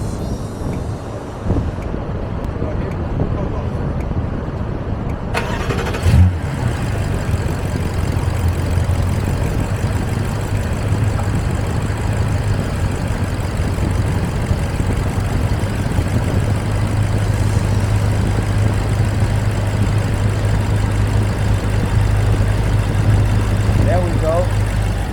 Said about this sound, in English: First startup with the new ignition parts.